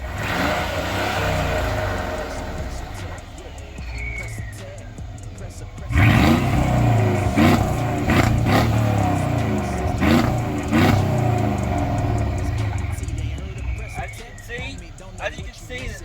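Tuned Mercedes-Benz GLS550 with Stage 2 tuning, downpipes and open exhaust cutouts, its engine revving in loud bursts near the microphone, with a sharp surge partway through and someone talking over it.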